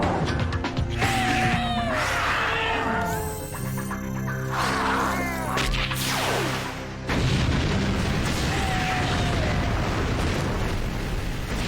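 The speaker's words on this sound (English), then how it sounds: "it ignited the thorax with that explosion" Explosions and a spreading fireball in an animated science-fiction show burst out as loud booms and rumbling blasts over a layered score, with a short lull before another heavy eruption.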